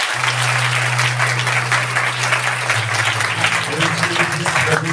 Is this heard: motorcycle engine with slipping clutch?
no